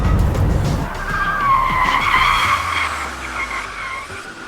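A Rimac Nevera electric hypercar driven at the limit on a race track, its tires squealing in a long, loud, wavering skid with rising and falling pitch, close and unbroken, with no engine roar over it.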